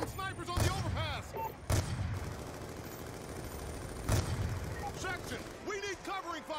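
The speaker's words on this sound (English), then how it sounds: "Taking fire from snipers on the overpass!" Gunfire from snipers on an overpass in the Call of Duty: Black Ops 2 video game, a few sharp loud shots spaced a second or two apart amid battle noise, with voices shouting over it.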